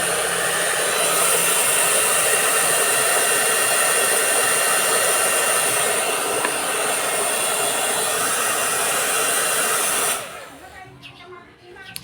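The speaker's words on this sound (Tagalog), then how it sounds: "Dino-blower ko yan para matanggal din dumi kasi hindi ko mapunis-punasan sa loob." Steady, loud rush of an air blower clearing dirt from a Mio Sporty scooter engine during an oil change, running continuously for about ten seconds before cutting off abruptly and leaving quiet.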